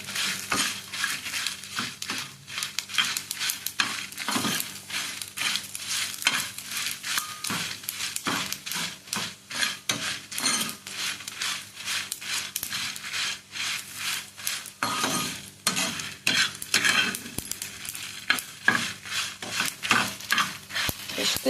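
Fish curry masala being fried and stirred in a pan, with steady scraping and rubbing of a utensil against the pan running almost continuously at close range with no talk.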